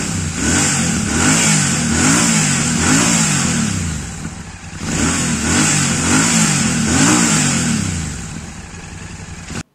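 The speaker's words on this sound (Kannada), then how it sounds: "ಇಂಜಿನ್ ಅಲ್ಲಿ ವಿಸಲ್ ಸೌಂಡ್ ಕೇಳಿಸುತ್ತೆ" A 647cc inline twin motorcycle engine with a 270-degree firing order revs up and down in loud, repeated bursts, with a whistle riding over the engine note and no one talking.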